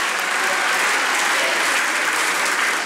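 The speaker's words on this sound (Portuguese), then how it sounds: "E vamos aplaudir a Jesus" A church congregation applauds during a worship service, dense continuous clapping from many hands filling the room at a steady loud level with no break.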